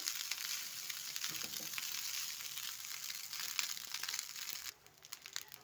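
Cooked rice for Faridpur-style bhuna bhat is stir-fried in a pan, giving a continuous soft sizzle with crinkly stirring and scraping. The sizzle drops away abruptly near the end.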